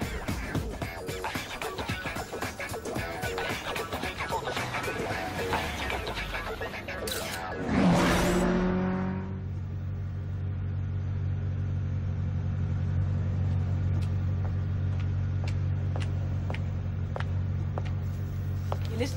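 A low, steady engine rumble idles on after a burst of louder mechanical noise, with faint clicks and taps scattered over the drone.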